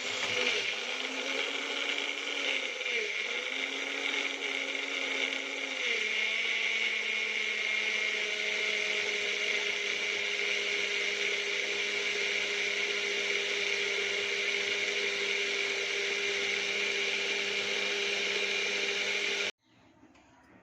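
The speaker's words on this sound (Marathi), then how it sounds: "आपण हे सगळं मिश्रण मिक्सरला बारीक वाटून घ्यायचं" A mixer grinder whirs steadily for nearly twenty seconds, blending a solkadi mixture of large chilli, a little salt and water finely. Its motor pitch shifts early on, then holds a constant loud drone until it cuts off abruptly.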